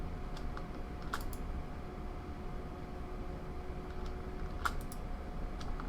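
Computer mouse clicks while placing road markings in Cities Skylines, a few sharp isolated clicks spaced seconds apart over a low steady hum and faint electrical whine.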